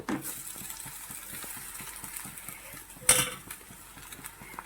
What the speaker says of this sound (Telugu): ఇంకొంచెం ఫ్రై అయిన తర్వాత నూడిల్స్ కూడా వేసుకుందాం.